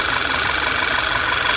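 A Volkswagen Tiguan engine with fault code P0507 idles with its oil cap on, giving a steady, close, unbroken hiss and hum.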